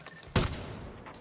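Sniper rifle shot in the video game Ghost Recon Breakpoint, a single sharp loud crack followed by a brief rumbling tail, standing alone without talk.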